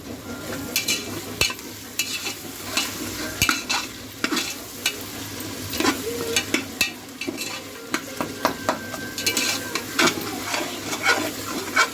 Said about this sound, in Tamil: நல்லா வதக்கி விடலாம். அடி பிடிக்காத அளவுக்கு நம்ம வதக்கணும்.